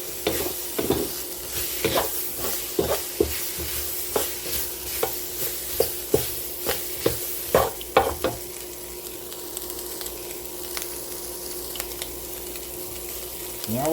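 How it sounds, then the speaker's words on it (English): A spoon stirs Cajun seasoning into bacon and Brussels sprouts frying in a pan. Sharp scraping knocks repeat over a soft background sizzle, then the stirring stops and only a quiet simmer remains. "We'll stir that in."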